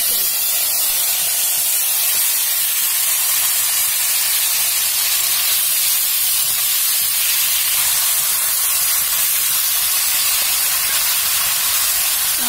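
Grill chicken pieces dropped into hot oil, producing a loud, steady hiss of sizzling that holds unbroken for the whole stretch, with no voices.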